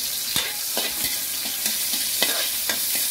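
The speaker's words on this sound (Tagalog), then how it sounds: "Itay na natin hanggang sa uminit yung ating mantika. Ilagay natin yung ating bawang." Garlic frying in hot oil for chicken adobo, a steady bright sizzle with repeated stirring scrapes about every half second, close and fairly loud with no talking.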